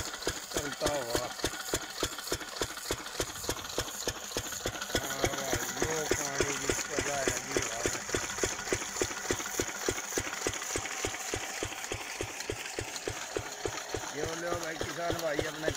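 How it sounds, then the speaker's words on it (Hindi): An 8 HP engine pumps water onto a farm field, chugging in a steady, fast knocking rhythm close by for the whole stretch while someone talks over it. "भाई देखो भाई वो इंजन चलता हुआ"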